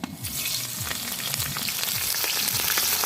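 Bay leaf, green chili and panch phoron hit hot oil and crackle in a steady, loud sizzle, close up with small popping bursts throughout and no talking.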